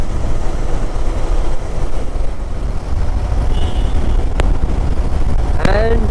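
A vehicle engine held at 4200 RPM in 6th gear at about 82, a loud steady drone with heavy wind and road rumble. Brief chirps and a short tone sound near the end.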